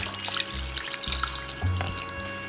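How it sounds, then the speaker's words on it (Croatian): Water pours from a vessel into a pot over layered cod stew with potatoes, a close, steady splashing gurgle with a couple of brief surges, and no voices. "Prelit ćemo vodom"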